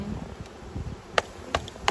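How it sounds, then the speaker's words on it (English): Faint buzzing of honey bees close by, with a few sharp little clicks and knocks breaking through the quiet hum. "These bees do not want to leave."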